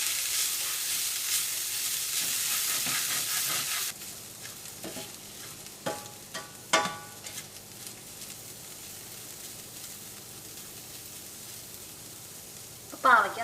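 Bitter gourd frying in a pan for a Kerala-style thoran makes a loud, bright sizzle for a few seconds that then settles into a softer hiss, with intermittent scrapes and clinks of stirring and a sharp clatter at the end.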